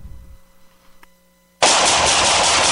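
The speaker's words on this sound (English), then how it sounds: "Whew, nice shooting." Gunfire within a radio advertisement: after a quiet lead-in, a loud, dense burst of shots erupts suddenly and roars on without pause to the end.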